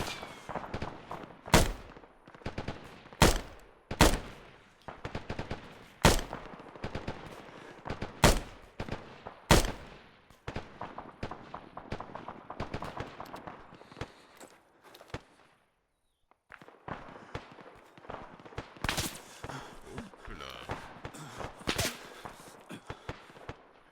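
Gunfire in the video game Arma 3 during a military-simulation mission: sharp single shots spaced a second or two apart, then denser crackling exchanges and a distant rattle of fire, with a short quiet gap near the end.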